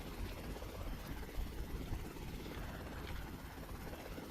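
A helicopter engine in the video game Prototype, a steady whirring rotor drone with broadband engine noise, continuous and moderately loud throughout with no talking.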